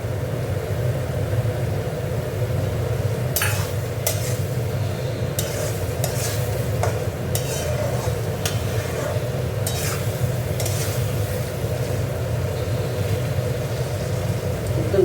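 Food being stirred and fried in oil in a pan on a home stove, a steady sizzle running throughout with intermittent scraping stirs, close and fairly loud, no voices.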